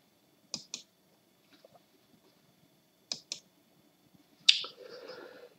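Computer mouse clicks, close and crisp: a quick double click, a few faint taps, another double click, then a sharper click followed by a brief low whir of the computer responding.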